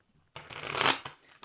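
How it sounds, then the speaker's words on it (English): A quick riffle of tarot cards being shuffled, a soft papery rush that swells and fades, followed by a brief second flutter. "One more shuffle."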